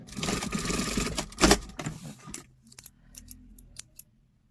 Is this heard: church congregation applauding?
no